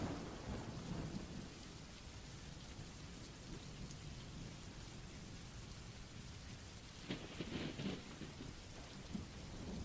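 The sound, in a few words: rain and thunder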